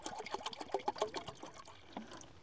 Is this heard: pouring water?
yes